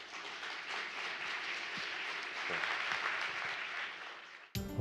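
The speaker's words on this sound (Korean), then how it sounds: "제가 교수님을 무대로 모실 때 큰 박수로 환영해 주시기 바랍니다" An audience at a Korean science forum applauds to welcome a professor to the stage, a steady, moderately loud wash of many clapping hands that ends abruptly.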